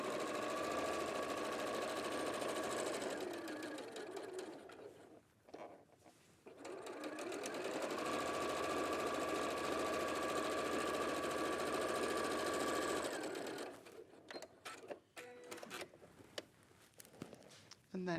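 A sewing machine runs in long steady bursts of rapid mechanical stitching while piecing a quilt, pausing briefly between runs, with a quiet voice during the gaps.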